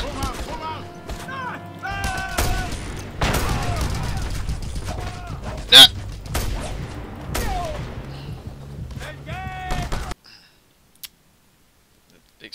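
Bursts of gunfire and explosive thumps from the video game Just Cause 2, with sharp clicks and loud booms, cutting off abruptly near the end into near silence.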